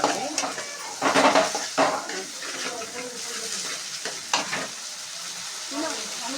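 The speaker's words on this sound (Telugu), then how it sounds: "అల్లం పేస్ట్ వేసుకున్న తర్వాతకి బాగా కలుపుకోవాలి" Spoon stirring ginger paste in a frying pan at home, soft scraping strokes and occasional metal clinks over a light sizzle, with a few louder knocks against the pan.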